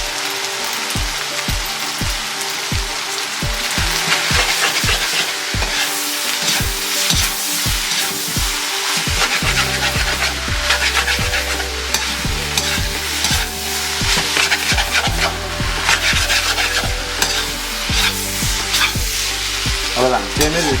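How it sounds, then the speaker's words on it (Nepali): Chicken chowmein with soy sauce stir-fried in a pan, a loud steady sizzle overlaid by quick rhythmic scraping and clatter of the spatula stirring the noodles, continuous throughout with no voices. "यसलाई एकछिन फ्राई गर्छौँ मजाले हामी"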